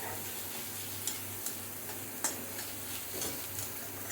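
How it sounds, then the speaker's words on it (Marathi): Onion sautéing in a pan with chilli and paste for a brinjal bharta: a faint, low sizzle with a few light ticks and scrapes of stirring, under a steady background hum. "कांदा चांगला परतून घेणार जरा मऊ होईपर्यंत"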